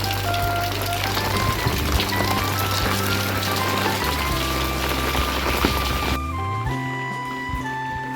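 Rain falls in a jungle in a dense, steady patter, mixed with a low engine-like drone and tonal hum that cut off abruptly near the end, leaving a quieter wash of rain.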